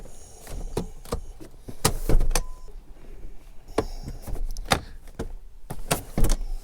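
Rear seats of a 2024 Lexus TX 500h F Sport Performance folding down by lever, giving a series of sharp mechanical clicks, latches releasing and thuds of seatbacks dropping, close and fairly loud, with no talk.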